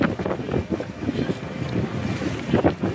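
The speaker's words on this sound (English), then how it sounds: "You should talk louder because it's windy." Strong wind buffets the microphone in gusty, rumbling bursts aboard a cruise ship off Vilamoura, Portugal, with the faint wash of water in the background.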